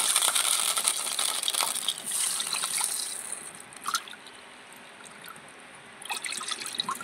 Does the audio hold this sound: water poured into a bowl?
yes